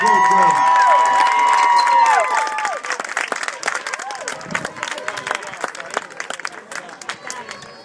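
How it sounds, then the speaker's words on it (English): Crowd applause and cheering after a baseball game, loud and dense for the first two seconds before thinning into scattered claps and chatter with voices mixed in. "Let's give Dominica Sage a good round of applause."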